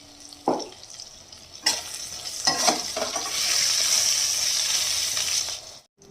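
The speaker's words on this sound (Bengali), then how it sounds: "একটু ভেজে নিচ్ছি" Brinjal pieces coated in salt and turmeric fry in the same oil just used for fish, bursting into a loud, steady sizzle with some stirring noise that fades out at the end.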